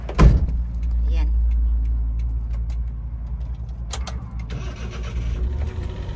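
A Suzuki Every turbo van's engine cranks and catches with a short, loud burst, then settles into a low, steady idle heard from inside the cabin, with a few light clicks and knocks around it.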